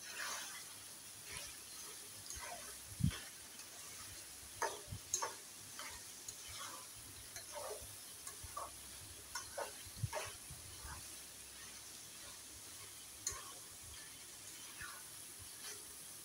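Carrot and capsicum fry is stirred in a pan, with scattered spoon taps and scrapes over a low, steady sizzle, fairly faint throughout.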